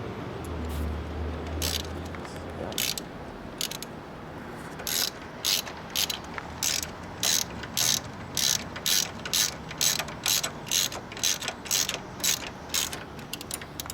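A hand ratchet turns a front shock bolt on a C4 Corvette, a steady run of sharp, regular clicks close by, coming in short bursts, with quieter handling noise before them.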